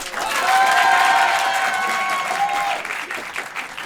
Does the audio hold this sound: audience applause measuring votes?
yes